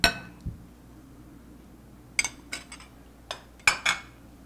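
A spoon stirs tofu sandwich spread mixed with light mayo in a bowl, giving scattered, sharp clinks against the dish with quiet gaps between them and no talking.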